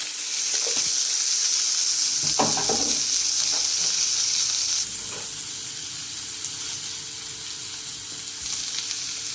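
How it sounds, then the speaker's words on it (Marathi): Onion and tomato with mustard seeds fry in hot oil in a pan for an ivy gourd sabji, giving a steady, close sizzle with a few soft stirring clunks and a slight drop in intensity halfway through. "लिंब कांदा आणि टोमॅटो व्यवस्थित छान भाजून घ्या"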